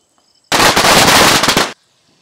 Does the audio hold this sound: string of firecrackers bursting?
yes